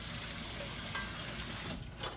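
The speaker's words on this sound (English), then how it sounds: "I'm adding about 3 or 4 quarts to this" Water pours steadily into a pot of floured oxtails with thinned flour, a continuous splashing gush that carries close and even throughout before easing slightly near the end.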